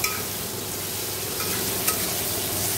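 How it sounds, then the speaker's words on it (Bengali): Pointed gourd (potol) frying in a pan, a steady loud sizzle with occasional stirring scrapes throughout, no talk. "এখন দেখো এখানে পটল ভাজছি"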